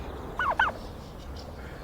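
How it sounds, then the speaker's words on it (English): Turkeys on a farm give a short burst of gobbling, two quick warbling calls near the start and another at the end over quiet background hum. "Bye, turkeys. I'll see you in the oven."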